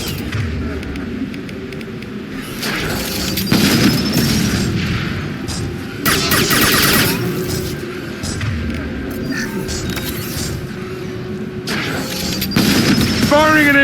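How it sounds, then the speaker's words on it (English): Weapon fire and explosions in Mass Effect 2 combat, several loud booming bursts spread through a dense, noisy battle with voices talking over the action. "Firing an impact shot."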